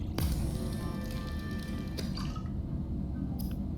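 Subnautica game sounds while an air bladder is turned into water: a steady mechanical hum with a sharp click near the start, a bright crafting chime around two seconds and a short tone near the end.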